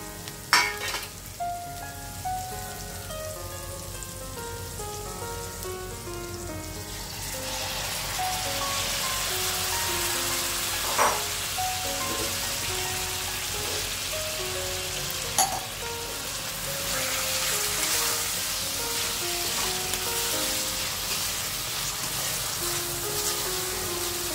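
Prawns hit a pan of cooked masala and sizzle steadily, a bright crackling fry that swells after a few seconds and carries on alone with occasional spatter pops, over faint background music.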